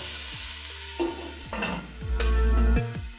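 Cauliflower florets with salt and turmeric fry in a pan while being stirred, a close sizzle broken by repeated scraping and clinking strokes of a spatula against the metal, louder near the end, no voices.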